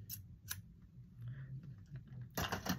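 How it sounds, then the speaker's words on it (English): Sharp shears make a few crisp snipping cuts through kinky curly hair bundles, close and quiet, with short separated bursts and a louder run of cutting near the end. "You gotta hear the scissors."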